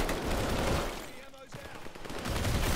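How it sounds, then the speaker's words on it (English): Rapid bursts of machine gun fire in Call of Duty: Vanguard multiplayer, loud and crackling at the start and again at the end, separated by a short lull. "Oh, it's a machine gun, bro. Why does it... It shoots weird, like... It's like it's exploding."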